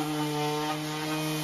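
Wooden shelves being sanded with a power tool, a steady close whirring drone with strong constant tonal hum and a faint gritty rub running through the whole short stretch, no voices.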